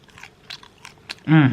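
Tahini-roasted vegetables and tofu chewed close up, giving several crisp, uneven crunches, followed by a short, louder voiced hum at the end.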